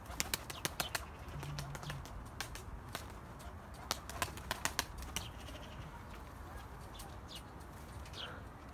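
A young white pigeon beats its wings in a quick flurry of sharp flapping claps, then again in a second burst before flying off, faint with light outdoor background.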